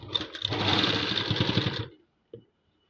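A sewing machine runs a steady, close stitching line along a salwar hem, buzzing continuously for nearly two seconds before stopping, followed by a single short click.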